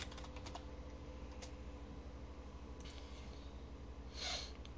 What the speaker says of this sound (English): I'm just gonna type something to you.